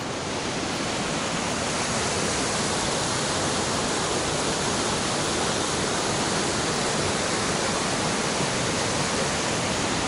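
Waterfall with clear water along the John Muir Trail near Garnet and Thousand Island Lakes, a steady loud broadband rush heard up close and unbroken throughout.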